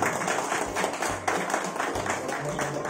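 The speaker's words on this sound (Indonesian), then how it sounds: "Ya, boleh berikan tepuk tangan." Audience applause at a ceremony marking the 9th anniversary of a Dayak cultural community in Binua Landak, a steady broadband patter of many hands throughout, moderately loud with faint voices underneath.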